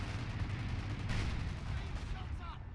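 A Panzer IV tank fires its gun during a WWII strategy game battle at Caen. Sharp, heavy gunfire and artillery-like bangs crack out over a dense battle din, with a voice talking underneath.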